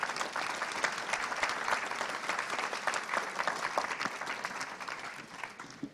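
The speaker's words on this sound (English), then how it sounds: "Let's have a round of applause for our panelists." An audience at a global leadership panel forum claps for the panelists, a dense, steady round of applause that runs throughout and fades slightly at the close.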